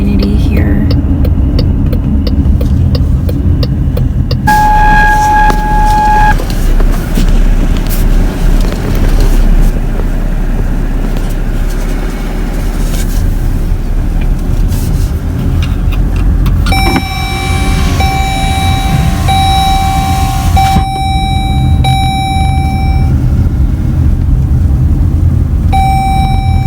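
A car rolls slowly into a gated community after the drive from Arizona to California, with a steady engine and road hum throughout and brief electronic tones and beeps over it.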